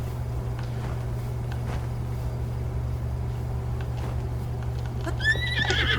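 A horse in the video game The Legend of Zelda: Breath of the Wild: hooves clop softly under a steady low hum, then the horse whinnies near the end, a short rising and falling neigh.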